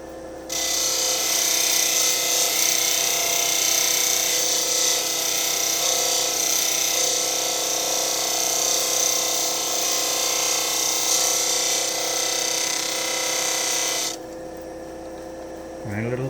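A power grinder shaping an intarsia wood piece runs steadily and loudly up close for about fourteen seconds, a constant whining buzz with slight rubbing variation, then cuts off into quiet room tone.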